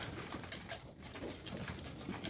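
Pigeons feeding in freezing weather coo softly amid a busy, scratchy flock, with faint rustling and the occasional flutter of wings, no voices.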